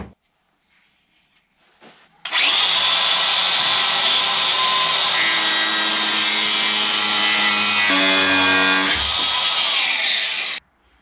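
An angle grinder cuts a steel file into a knife shape, starting after a quiet lead-in with a loud, steady high-pitched whine that shifts pitch partway through, then cuts off near the end.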